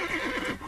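Horses snorting and whinnying in a dramatized campsite scene, a loud close whinny with a shaky, wavering pitch that fills the brief moment, heard alone.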